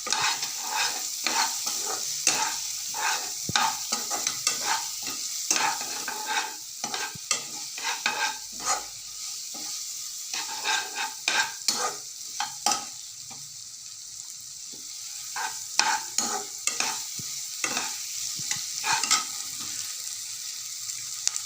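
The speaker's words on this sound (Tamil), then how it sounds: "மஞ்சள் தூள் போட்டுட்டு அதையும் சேர்த்து நல்லா வதக்கணும்" Tomatoes and turmeric powder for an egg gravy being sautéed in a pan, with a steady run of close spoon scrapes and stirring strokes over a faint sizzle, with no voices.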